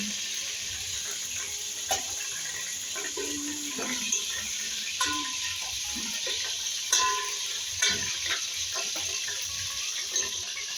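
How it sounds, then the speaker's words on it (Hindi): Fish pieces fry in oil for a masala fish curry, making a constant soft hissing sizzle with scattered clicks and clacks from a utensil every second or two, all fairly faint. "इसी तरह बाकी बचे फिश के पीसेस को भी अच्छे से फ्राई कर लेंगे।"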